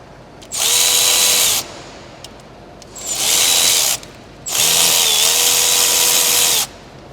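An air-powered ratchet works on a bolt on a 6.0 engine in three loud buzzing bursts, each lasting one to two seconds, separated by short quiet pauses, heard close up with no talk.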